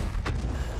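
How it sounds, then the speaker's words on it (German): A tank cannon fires in World of Tanks gameplay, a single sharp blast rising briefly over a constant dense rumble of in-game engine noise. "Schuss."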